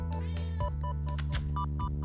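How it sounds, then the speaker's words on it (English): A house cat meows repeatedly for attention, a close run of clear, tonal cries with short breaks between them and no talking. "The poor kitty is lonely these days."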